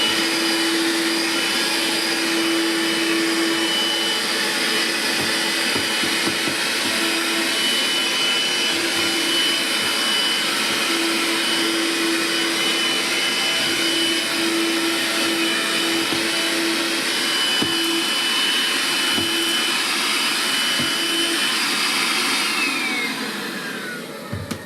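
A Makita 18V cordless stick vacuum runs at its single speed, giving a loud, steady, close suction whine that holds for over twenty seconds before winding down slightly at the end, with no voices.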